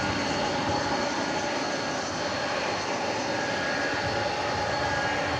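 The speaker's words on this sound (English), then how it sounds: "listen, we got a tri-jet." Tri-jet airliner engines roar steadily at DFW Airport, a loud continuous rushing drone with a faint high whine, heard nearby without voices.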